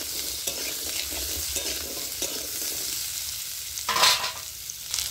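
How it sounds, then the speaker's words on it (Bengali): Potatoes frying in hot oil, a dense close sizzle broken by repeated scraping stirs, with a louder crackling burst near the end. "তেলের মধ্যে আমি আলুগুলো দিয়ে ভেজে নিচ্ছি।"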